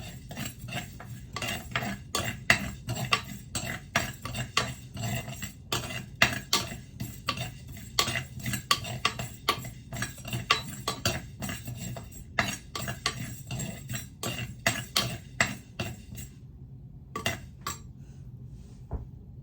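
Fenugreek, mustard and fennel seeds dry-roast in an empty pan for a raw mango fish curry, with soft, steady clinks and scrapes of stirring metal on the pan that fall quieter near the end.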